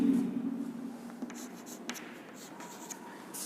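A pencil draws a line segment on paper in a geometry lesson, making soft scratching strokes that are quiet and close, with a few light taps.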